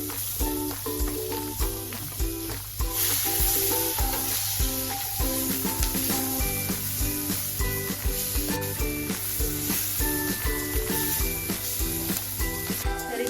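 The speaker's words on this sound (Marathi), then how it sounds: "सगळ्यात पहिल्यांदा कांदा भाजून घ्यायचा लाल होईपर्यंत" Onions frying in butter in a clay kadai give a continuous close sizzle with occasional stirring under steady rhythmic background music and no voices.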